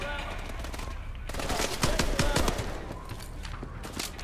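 Rapid automatic gunfire from an unfamiliar powerful gun in Call of Duty: Advanced Warfare rattles in a dense, loud burst of shots and then tapers off into softer game ambience.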